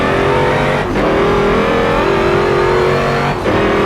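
Porsche race car on the Le Mans circuit, engine held at high revs with two brief gear-shift dips, loud and close, no talk.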